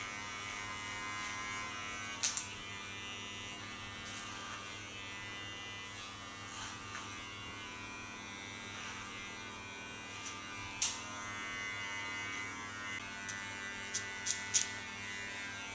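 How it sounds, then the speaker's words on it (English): An electric hair clipper buzzes steadily close by while cutting short silver-gray hair into a pixie style, a constant motor hum with a few brief clicks and rubs as it moves through the hair. "So far the clipper cut"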